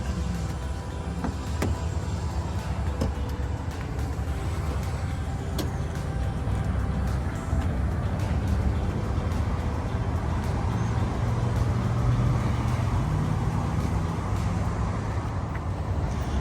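A Hyundai Santa Cruz pickup truck drives along with a steady, continuous low engine and road rumble that stays at an even level throughout, with no voices.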